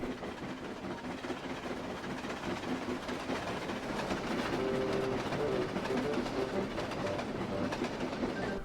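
A locomotive hauls a train with a continuous rumbling, clattering roar that holds steady and grows slightly louder partway through, with no voices.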